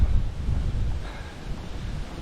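Steady, heavy rumbling wind of about 20 mph with 35 mph gusts buffeting the microphone near Patterdale, with a continuous low roar and no voices.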